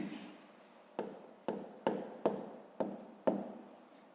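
Pen strokes on notebook paper during a fifth-grade maths lesson, a series of about eight short, distinct scratching bursts at a steady, unhurried pace, close and quiet, with no talking.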